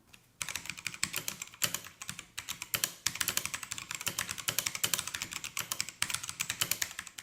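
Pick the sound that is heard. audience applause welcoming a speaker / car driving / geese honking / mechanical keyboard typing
mechanical keyboard typing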